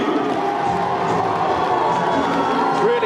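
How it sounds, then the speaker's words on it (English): A stadium crowd at the 2015 Glasgow Sevens roars and cheers a Fiji try against Portugal in rugby sevens, a loud, dense, sustained wall of voices throughout. "Really set the crowd alight on that one there"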